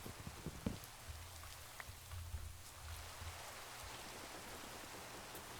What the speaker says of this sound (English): Hooray! Rain!